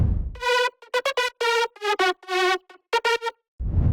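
Layered future house synth lead, with an added layer filling the mid-range, plays a bouncy phrase of clipped, harmonically rich notes in quick rhythmic bursts, loud and alone with no talking.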